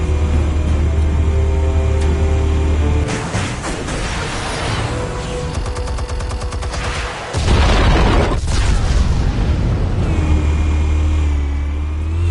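Explosives detonate in Batman: The Telltale Series, a loud booming burst arriving after a steady low rumble, with a second heavy blast around the middle and game score and effects continuing underneath.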